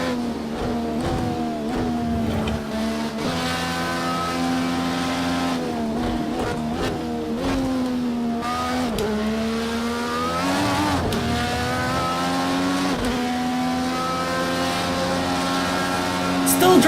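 A race car engine from Project Cars 2, its front wing partly missing, drones steadily at high revs with pitch shifts through gear changes. Someone talks over the continuous engine tone.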